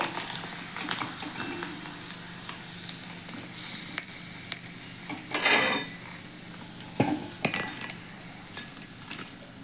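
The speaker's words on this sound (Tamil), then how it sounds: "கடலை எண்ணெயில் தான் நான் பொரிக்கிறேன்." Hot peanut oil sizzles steadily as sago wafers deep-fry up close, with occasional clinks of a utensil against the pan.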